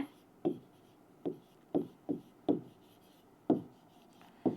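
Pen strokes on paper while a teacher works through a combinatorics test paper, several short scratchy taps and scrawls spaced irregularly, close and clear, with no talk over them.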